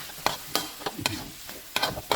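Beef with seasoning is stir-fried in a wok for a Thai basil dish, with sharp metallic scraping and tossing strikes at irregular intervals over a low background sizzle, close and fairly loud.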